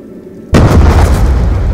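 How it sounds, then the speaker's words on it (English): A grenade in Call of Duty: Black Ops 2 Zombies goes off with one sudden, loud, close explosion after a quiet moment, followed by a sustained rumbling roar. "Oh, that was a shit grenade."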